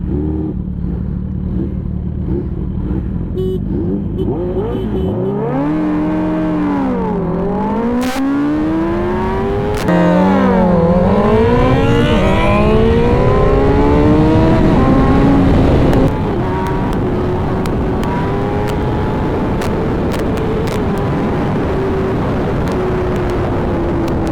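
Kawasaki Ninja ZX10R and Hayabusa sportbikes drag racing on a highway, engines screaming through repeated gear shifts with rising and dipping pitch, loud and close, then a steady high roar with wind noise.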